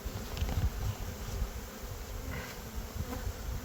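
Honey bees buzzing steadily and close during a spring hive inspection, a dense continuous drone with individual bees flitting past, no talking.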